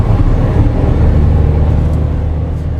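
A Toyota Agya hatchback's three-cylinder engine thrums steadily from inside the cabin, a loud, dense low rumble with constant road and engine noise and no talk.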